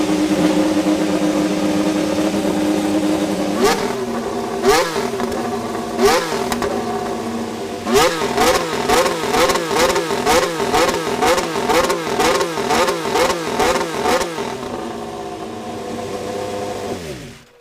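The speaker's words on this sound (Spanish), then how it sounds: "Ahora McLaren enciende el motor y así es como ruge el motor" A Mercedes-powered McLaren Formula 1 car engine fires up and roars loudly, with a steady high idle broken by a series of sharp, rhythmic revving blips that rise and fall repeatedly before settling back toward idle.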